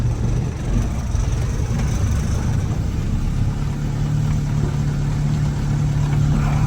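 A MK1 Ford Transit diesel crawling along in a very low first gear while towing a trailer: a loud, steady low engine drone with a constant hum, close and continuous.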